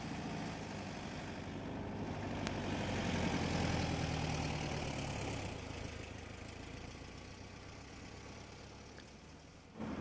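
A car engine idles and then pulls away gently with little throttle on snow, a steady low rumble that swells slightly mid-way and settles again, close and alone with no talk.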